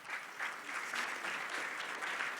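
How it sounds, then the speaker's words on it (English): Sustained applause from a conference audience during a talk on phenology, a dense, steady patter of many hands clapping at even loudness throughout, with no voices over it. "you guys are cheering for them"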